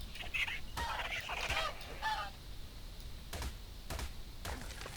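Honking, goose-like squawks from a dodo bird in Ark Survival Evolved come in a dense cluster, then give way to scattered clicks and taps over a steady background hiss.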